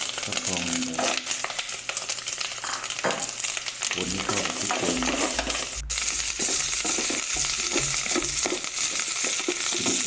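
Thai curry paste sizzling and frying in hot oil, a constant crackling hiss with occasional stirring scrapes, while someone talks briefly over it.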